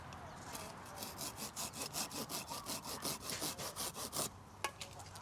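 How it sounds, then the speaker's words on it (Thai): A hand saw rasps back and forth through a bodhi bonsai tree branch in quick, even strokes, about a dozen close strokes before it stops. "เดี๋ยวเราใช้เลื่อยตัดเก็บกิ่งนี้เราจะตัดทิ้ง"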